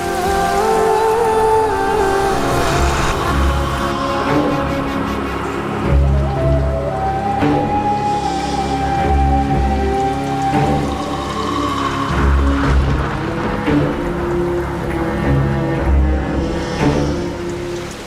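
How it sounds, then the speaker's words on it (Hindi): Heavy rain falls in a steady, dense wash, continuous and fairly loud, with music playing over it throughout. "ये तो तेज बारिश शुरू हो गई।"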